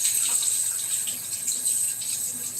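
Tap water runs steadily into a sink, splashing over a pineapple slicer being rinsed, a continuous hiss and patter heard close with no talk.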